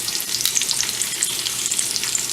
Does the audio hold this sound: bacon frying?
yes